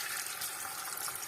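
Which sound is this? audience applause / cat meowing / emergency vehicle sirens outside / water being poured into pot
water being poured into pot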